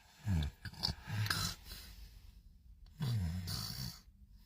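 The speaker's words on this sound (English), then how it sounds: "Well, I guess he must be for all that annoying snoring." Heavy snoring from a sleeping man, two rumbling, rasping breaths a few seconds apart, close and fairly quiet.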